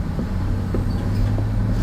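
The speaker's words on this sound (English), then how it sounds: "Big truck" A big diesel truck rumbles past on a Los Angeles street at night, a loud, low engine drone that holds steady and close throughout the short moment.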